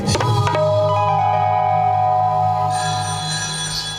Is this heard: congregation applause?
no